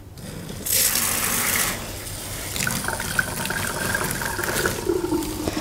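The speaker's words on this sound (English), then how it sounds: "And then gently turn the water on." Water gushes from a tap into a bath in a steady stream, starting with a louder rush then settling into continuous running and splashing.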